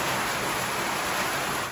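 Heavy, dense rain pouring down steadily on a farm, a loud, unbroken wash of noise that cuts off abruptly at the end.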